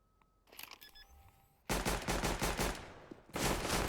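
Loud bursts of automatic rifle fire ring out in a Counter-Strike: Global Offensive match on the Train map, in two sustained rapid volleys after a brief quieter stretch.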